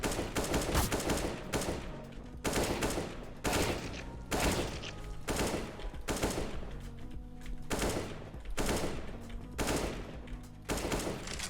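Gunfire from shooting bots during CS:GO pre-fire practice comes in repeated loud bursts of rapid shots separated by short pauses, with a fairly steady rhythm and no talking.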